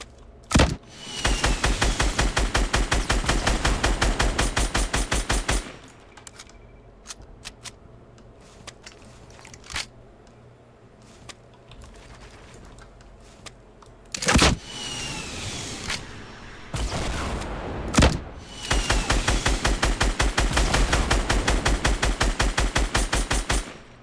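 Rapid automatic gunfire in a video game battle royale match, long loud bursts of fast repeated shots separated by quieter gaps with engine-like hum and a few isolated single shots.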